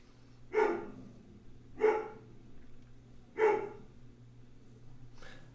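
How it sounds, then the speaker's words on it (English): A dog barks four times at even intervals, single sharp barks some distance away and fairly faint, over a low steady hum. "Yep, someone's dog looks like they're having a good time."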